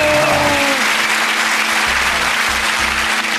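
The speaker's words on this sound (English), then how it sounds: "Give them a round of applause." A crowd claps loudly and continuously, a dense wash of applause filling the whole stretch with no break.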